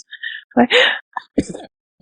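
A single sharp sneeze close up, followed by a short breathy sound and brief vocal murmurs.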